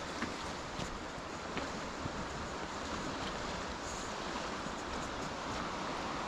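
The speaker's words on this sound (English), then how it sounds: "Just every now and again, one of those waves just like overturns on the set and you see the white. That's where you hear it." Small waves on the River Wansbeck break and roll over in a continuous, broadband wash of water with steady wind noise, close to the microphone and without talk.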